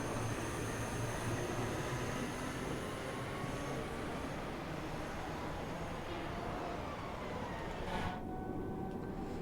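A ScotRail Class 314 electric train on the Glasgow Cathcart Circle in Train Sim World 4 rumbles along steadily, with continuous wheel and motor noise and a brief higher whine near the end.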